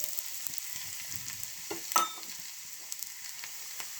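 Chopped shallot, ginger, a dried red chili and curry leaves fry in oil for a Kerala-style buttermilk tempering, a quiet, close, low sizzle with scattered small pops and one sharper crackle.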